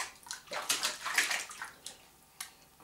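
Water sloshing and gurgling in a bathtub as it drains, with irregular splashy bursts at moderate distance and no clear talk.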